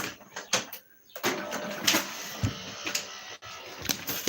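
A printer prints a document with a busy run of mechanical whirring, clicks and paper-feed rattles, close and moderately loud, with a brief pause near the start.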